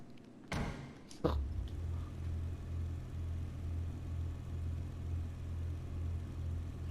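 A car in a video game revs and accelerates after a couple of sharp transient hits, then settles into a steady low engine drone that holds for several seconds, with no talking.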